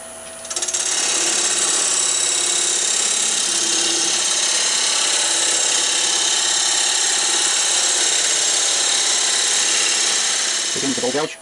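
A wood lathe spins a wooden bowl blank at just over 1,000 RPM while a tenon is cut. A loud, steady, broadband whir runs for about ten seconds and fades out at the end.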